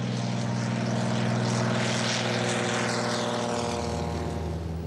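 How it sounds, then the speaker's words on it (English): A de Havilland Beaver bush plane flies over the Alaskan wilderness, its propeller engine giving a loud, steady drone that holds for several seconds before the pitch shifts slightly near the end. "the Beaver remains the favorite plane of the Alaskan bush pilots"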